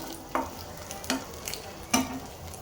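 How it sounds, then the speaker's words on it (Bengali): Pieces of food frying in a pan at night in a home kitchen, a soft steady sizzle with a few sharp clinks and scrapes from stirring, close by and without talk. "এই যে ভেজে দিচ্ছি, 2 পিসই খাবে।"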